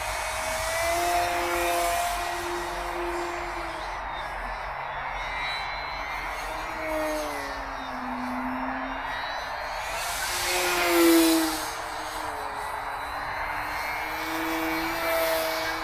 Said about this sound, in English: go outside then and just do a really early morning flight on this Decathlon